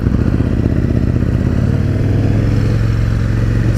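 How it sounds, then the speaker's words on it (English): A loud, throaty 2017 KTM 1290 Super Duke R engine with an aftermarket end can idling and revving nearby, with a deep rumbling exhaust note and steady rapid pulsing. "It's got an Acura aftermarket end can on it, which makes it sound wonderful."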